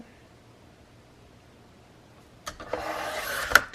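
Paper being cut to trim a thin strip from a sheet, a quiet pause followed by a short, close rasping cut lasting about a second with a sharp snip at the end.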